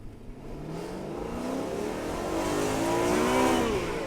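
2013 BMW E92 M3 with a six-speed manual and Valvetronic exhaust, valves closed, pulling away from a standstill, a muted but steadily rising engine note that climbs through the revs close by.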